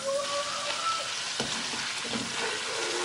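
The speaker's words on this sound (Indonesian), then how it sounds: "Kalau misalnya sudah panas, kita mau goreng terlebih dahulu cuminya." Squid frying in hot oil in a pan, a continuous crackling sizzle with a brief stirring clatter partway through, loud and close with no talking.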